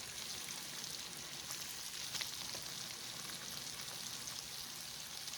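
Floured chicken wings frying in hot oil for buffalo wings, giving a soft, even, continuous sizzle heard fairly faintly and close by with no voices.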